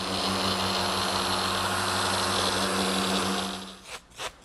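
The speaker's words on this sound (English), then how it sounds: "Before I do any assembly of the chest, I want to sand all the inside surfaces." A power sander works the inside surfaces of a wooden toy chest, giving a loud steady whir that winds down near the end and is followed by a couple of brief knocks.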